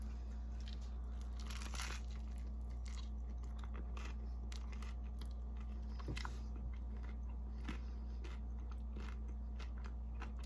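Sourdough bread topped with crock-pot pork loin and rhubarb barbecue sauce being bitten and chewed close up, with soft repeated crunches and mouth sounds over a steady low hum, no speech.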